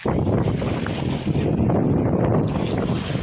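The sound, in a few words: wind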